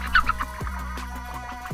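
Chickens on a poultry farm cluck and squawk in short close bursts over a steady low background hum, with no voices.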